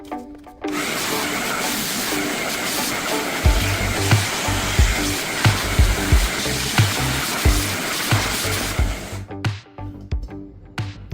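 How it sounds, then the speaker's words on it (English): A vacuum cleaner runs close and loud over drywall debris, a steady whining roar that starts abruptly, rattles and thumps as bits are sucked up, then cuts off near the end. "we vacuumed everything up"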